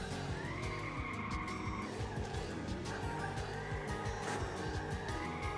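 Honda Civic drifting in the video game Drift 86, with continuous tire squeal over a revving engine, wavering and changing pitch throughout.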